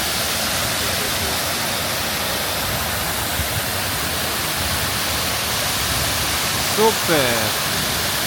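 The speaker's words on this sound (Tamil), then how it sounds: "இந்த முன்னுக்கு இருக்கிற தண்ணி பாயிற இடம் தெறிக்குது எங்களுக்கு" Water gushes and splashes steadily at a fountain in Genoa, a dense close hiss throughout, with a voice briefly speaking near the end.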